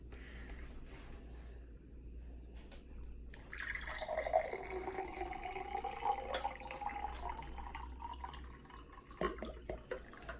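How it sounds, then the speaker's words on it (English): Gatorade drink poured into a cup, a soft steady liquid trickle and splash that starts after a quiet pause and runs several seconds, faint and close. "And then pour it in a cup."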